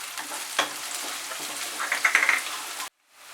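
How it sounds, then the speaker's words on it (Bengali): Chopped large onion and garlic fry in oil with a close, steady sizzle and small crackles, plus a few stirring clatters, before the sound cuts off abruptly near the end. "রসুন আর পেঁয়াজটাকে কিন্তু ভালো করে ফ্রাই করে নেব"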